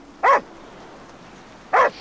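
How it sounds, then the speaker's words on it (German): A dog in the video game Grim Legends: The Forsaken Bride gives two short, clear barks about a second and a half apart, close and alone against a quiet background. "was macht denn der Hund hier?"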